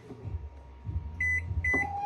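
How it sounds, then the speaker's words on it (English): A microwave oven set to high power gives a faint low hum, then a few sharp keypad beeps near the end as it is started. "Microwave on high 100 power for 8 minutes."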